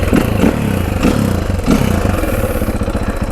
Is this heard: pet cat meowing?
no